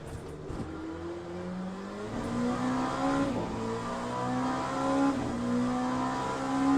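GTE race cars in Le Mans Ultimate droning past at Sebring, engines rising and shifting in pitch with overlapping revs as the pack closes in, loud and steady with no talk.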